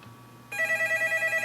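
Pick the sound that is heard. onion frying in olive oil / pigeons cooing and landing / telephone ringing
telephone ringing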